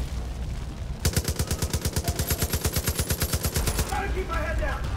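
Loud machine-gun fire in the video game Far Cry 5, a steady rapid burst of about twenty-five evenly spaced shots lasting nearly three seconds, then giving way to fainter clinks and game sounds.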